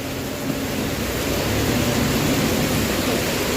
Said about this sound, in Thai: ฝนตกด้วยนะครับ